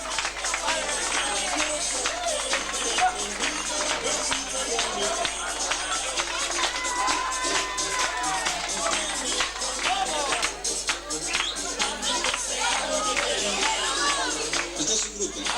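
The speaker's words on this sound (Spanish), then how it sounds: "Aplausos." A crowd claps and murmurs at a children's group presentation, steady applause and hubbub running throughout, mixed with excited voices and kids' chatter.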